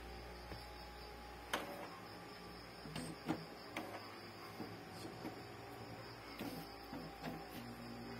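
An Epson L3210 inkjet printer starting up after being powered on, with quiet mechanical whirring, ticks and several sharp clicks over a steady low hum.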